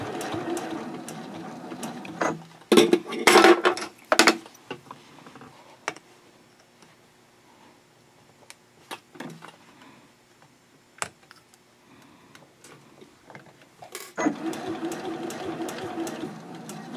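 Sewing machine stitching around the curves of a zipper case, bursts of rapid mechanical clatter early and again near the end, separated by quieter ticking and handling sounds.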